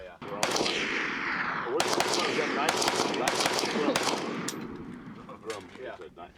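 AK-47 rifle fire at a shooting range, a series of loud, sharp close shots in uneven bursts, each with a ringing echo that trails off between them.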